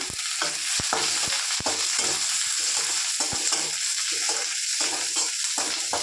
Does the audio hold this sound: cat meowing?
no